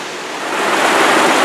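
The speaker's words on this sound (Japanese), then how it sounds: "本当に密林の中にある滝にやってきた" Steady broadband roar of a jungle waterfall on the Pipiwai Trail in Maui, rushing water filling the clip continuously and swelling slightly louder toward the end, with no voices.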